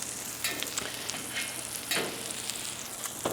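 Bulk sausage sizzles on a Solo Steelfire griddle in a continuous, close crackling fry, with a few brief scraping swells, alone without talk.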